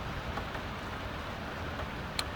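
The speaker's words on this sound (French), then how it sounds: "Sous la pluie de Paris." Steady rain falls on a Paris street, a continuous close wash of drops with a faint brief tick near the end and no voices.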